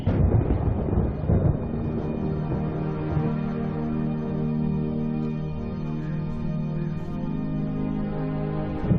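Heavy thunderstorm over the Everglades wetlands, with a loud rolling rumble of thunder that sustains and slowly decays under a constant wash of hard rain, no voices.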